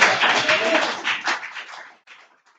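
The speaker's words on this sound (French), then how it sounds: "Applaudis quoi." Church congregation applauding during a sermon; a short burst of brisk clapping from a crowd that fades out after about two seconds, followed by quieter scattered claps.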